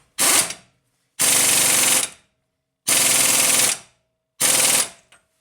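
An impact wrench hammers on a Nissan Rogue axle nut in four loud, close bursts, each a rapid rattling buzz lasting about a second, separated by short silences.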